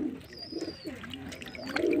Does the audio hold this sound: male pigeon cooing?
yes